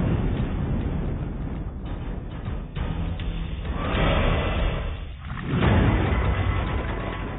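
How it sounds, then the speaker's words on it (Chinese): A military munitions-disposal team detonates ordnance on a training range, giving a sustained deep rumbling roar that swells, dips, then surges again, heavy and distant-sounding throughout with no speech. "军火清理分队的引爆排在十大爆炸中的第十位"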